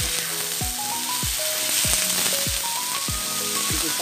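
Mixed vegetables sauté in a hot pan with a loud, continuous close-up sizzle, while a soft regular pulsing beat runs underneath.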